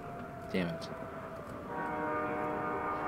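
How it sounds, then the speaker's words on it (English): A train passes in the video game Year Walk, its low rumbling drone building into a steady sustained hum with a brief horn-like tone early on, heard behind a player's occasional voice. "There's a train."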